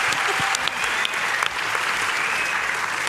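A talent show audience applauds a roller skating club's performance with loud, continuous clapping that fills the space evenly from start to finish, a few sharper claps standing out.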